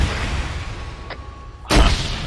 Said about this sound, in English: Be careful, some of those explosions are getting close to that chopper.